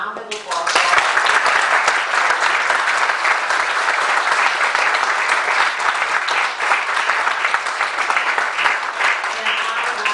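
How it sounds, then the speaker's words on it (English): A room full of people at a school board candidate forum breaks into steady, sustained applause, dense and even from start to finish, with a few voices mixed into the clapping. "I think we ought to give a round of applause."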